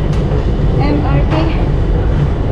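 An MRT train moving through a station produces a loud, continuous rumble with rattling, clacking wheel noise throughout, while faint voices murmur in the background.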